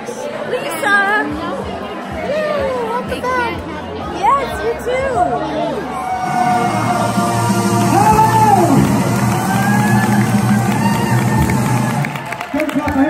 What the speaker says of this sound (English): Don't clap, I haven't done anything yet.